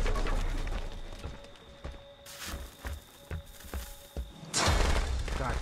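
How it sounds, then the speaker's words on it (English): A rapid string of sharp cracking firecracker pops in the video game Friday the 13th: The Game bursts out in scattered clusters, loud and close, with a dense crackling flurry at the end. "Damn fucking firecrackers!"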